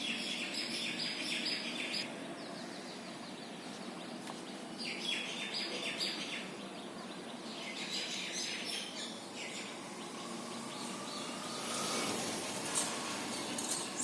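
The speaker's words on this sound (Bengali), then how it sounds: "পাখিদের ডাক শোনা যায়" Several birds call and chirp in bursts from a small patch of greenery inside a city, where herons also come and go, with a steady hum of urban noise underneath throughout.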